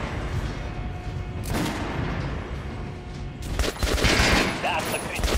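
Gunfire in the video game Metro Redux, a few bursts of shots, one around the middle and a louder, denser volley near the end, over a busy background.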